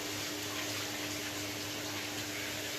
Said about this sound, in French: Attends, je me rince mes mains.